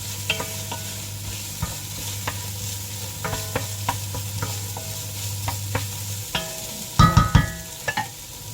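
Onions sautéing in a pan while being stirred, a low continuous sizzle punctuated by scraping utensil taps, ending with a few louder clanks.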